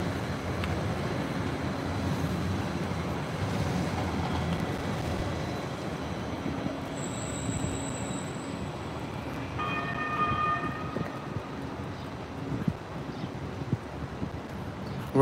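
Jersey City waterfront light rail train rolling past outdoors, a steady low rumble with wind noise, a brief high tone partway through and a short bell-like ding toward the end, fairly distant and quiet.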